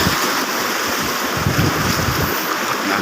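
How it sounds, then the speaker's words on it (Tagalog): Strong current of the Agusan river rushing in a steady, loud, broadband wash with no pauses, close to the microphone and with no voices over it. "At malakas ang agos."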